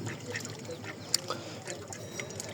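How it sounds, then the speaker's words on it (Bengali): Domestic ducks quack in scattered short calls at a middle distance outdoors near a river, with faint background noise and no clear talk. "এই হাঁসগুলো এখন আবার নদীতে চলে যাবে"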